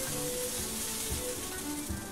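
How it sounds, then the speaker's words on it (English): Frying pan sizzling in the cooking game Karakara2, a steady dense hiss running throughout with faint soft shakes beneath, alone and continuous. "I lightly shake the frying pan."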